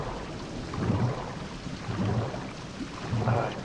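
Steady rain pours in a survival video game while low rumbles of thunder roll in three soft swells beneath the constant hiss.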